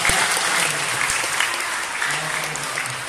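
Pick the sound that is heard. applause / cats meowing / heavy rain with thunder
applause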